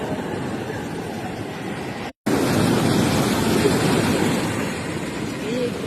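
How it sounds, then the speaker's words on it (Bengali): Strong sea waves breaking in quick succession on a shore, a loud continuous roar of surf with a brief dropout partway through. "বাহ আজকে খুব জোরে ঢেউ আছে, ঘন ঘন আসছে দেখো, এই যে একটার পর একটা চলে যাচ্ছে।"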